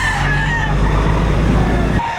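A White Hatch rooster crows at a chicken market in Batangas, one loud drawn-out call close by over a low rumble of background noise, cutting off sharply at the end.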